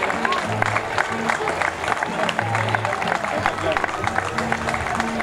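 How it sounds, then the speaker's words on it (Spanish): Crowd at an outdoor town festival proclamation applauds a man in traditional costume, with scattered, moderate clapping mixed with chatter and background voices. "Aplaudimos a Paco."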